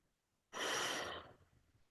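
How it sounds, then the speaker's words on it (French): One slow, forceful breath out during a calm breathing exercise, a close, loud airy rush lasting under a second that fades off gradually, with no talking. "Respirez doucement à l'inspiration et plus intensément de façon sonore sur l'expiration 3 fois."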